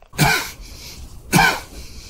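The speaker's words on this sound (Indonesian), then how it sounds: "Tiba-tiba saja Chen batuk dan mengeluarkan cairan hitam." A man in a film coughs in two harsh, close bursts about a second apart, each a short rasping hack, with quiet between them.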